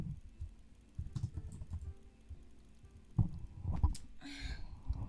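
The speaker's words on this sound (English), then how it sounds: "let me just type in case someone sees this" Computer keyboard typing in short uneven bursts, fairly close and moderately loud, with a brief pause and then a louder flurry of keystrokes near the end.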